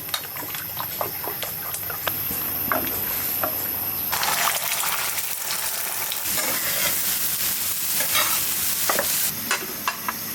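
Eggs with tomato fry on a home stove, giving a steady close sizzle with intermittent scraping and stirring clicks from a utensil in the pan. A brighter surge of hissing comes midway.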